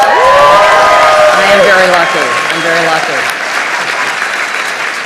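A dinner audience at the White House Correspondents' Dinner breaks into loud applause, sustained crowd clapping under someone speaking into a microphone in the large hall.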